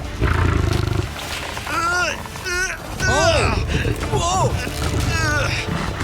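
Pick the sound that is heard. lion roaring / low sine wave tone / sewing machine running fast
lion roaring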